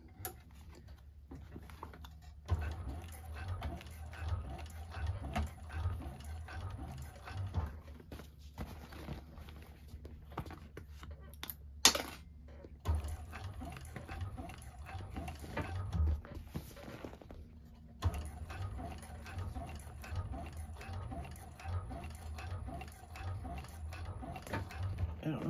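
A 1341 cylinder arm sewing machine set to stitch length 5 runs in quiet rhythmic bursts through a heavy bag, with a back stitch, stopping and restarting several times.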